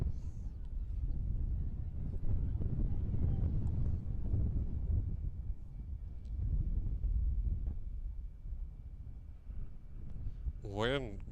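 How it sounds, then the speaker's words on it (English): Strong wind buffets a press box at a softball game, a continuous low rumbling roar that swells and eases for the whole stretch. A voice can be heard under it. "Wind picking up so hard it's starting to shake here a little bit in the press box."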